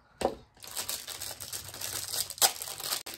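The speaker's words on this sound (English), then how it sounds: "I can't cut it through the plastic" Near and soft, a plastic wrapper on a stuffed caramel pretzel crinkles, with a sharp snip or tear at the start and another midway, alongside continuous rustling.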